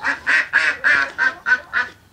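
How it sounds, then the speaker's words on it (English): Ducks quack loudly and close by, seven or eight hoarse quacks in a quick, even run lasting about two seconds. "Those are my ducks."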